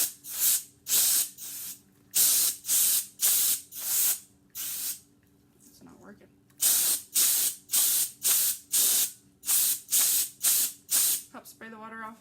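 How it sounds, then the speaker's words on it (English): A small handheld air duster sprays water off a surface in repeated bursts of loud hiss, about a dozen blasts in steady rhythm with one short pause midway. "What I use is one of the little air dusters."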